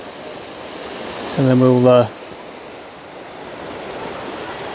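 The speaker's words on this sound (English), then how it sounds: "And then you've got the waterfall right there." Steady broadband roar of the waterfall on the River Lyd in Lydford Gorge, continuous and fairly loud, with someone briefly speaking over it.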